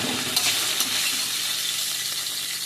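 Okra (bhindi) frying in a pan, a steady close sizzle with a few light clinks and stirring taps, no talking over it.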